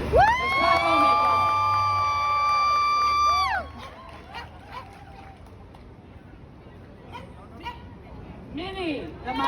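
A crowd at a Halloween dog costume party in Brickell whoops and cheers loudly for a few seconds, then the noise drops to scattered calls and chatter with voices talking over it.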